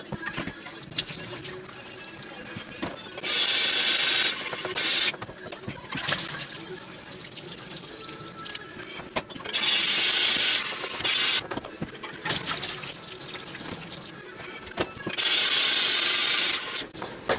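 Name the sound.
rinsing a wine carboy with hot, warm and cold water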